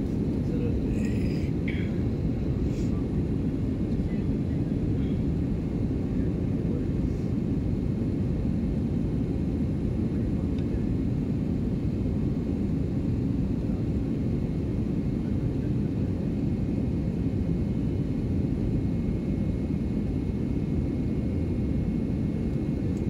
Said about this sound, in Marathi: हे विमान हवेत असलं तरी जमिनीवरील माणसं दिसत आहेत आणि जमिनीवरल्या माणसांना पण हे विमान दिसू शकतं